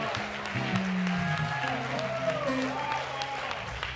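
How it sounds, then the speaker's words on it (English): Church congregation claps hands for Jesus during a sermon, the applause mixed with raised voices, shouting and what sounds like organ tones, all moderately loud and continuous. "Come on, clap your hands for Jesus"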